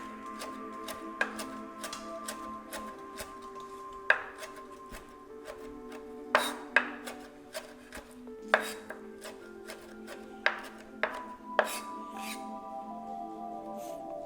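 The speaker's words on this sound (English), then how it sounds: "We got our Thai basil leaves. I'm gonna give them a slight chop just so they're not so big." A knife chops Thai basil leaves on a cutting board in a home kitchen, a series of sharp, close taps spaced about a second apart over a faint steady hum, with no talking.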